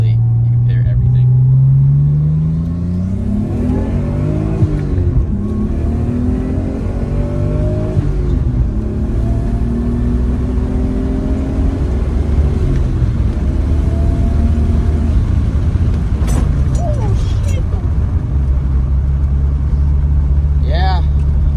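Nissan S13 fitted with an RB25 engine, boosted to about 10 psi, pulling hard under acceleration: a loud, close engine note whose pitch climbs steadily through the revs, drops back at a shift, then settles to a lower drone.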